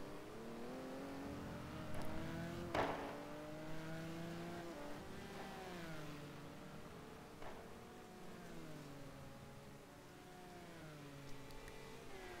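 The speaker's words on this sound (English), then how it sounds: "Nothing like the sound of a Ferrari now, is there?" Ferrari race cars in a GT1 race at Bahrain wail at high revs, engine pitch climbing and falling through gear changes, moderately loud with several cars overlapping and a brief sharp burst.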